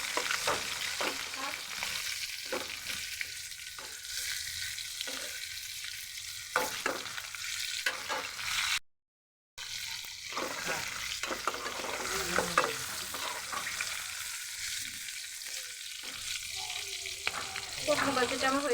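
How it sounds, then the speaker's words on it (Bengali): Pointed gourd slices frying in hot oil in a pan while being stirred, a steady close sizzle with repeated scraping and clattering of the spatula, briefly cut to silence midway. "পটল ভাজিটা নেড়ে দিচ্ছি।"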